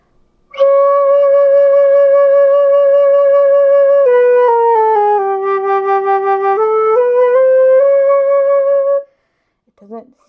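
A flute is played loud without changing the angle of the airstream, giving an uncentered tone. Long sustained notes step down in pitch and back up, alone and fairly loud for about eight seconds.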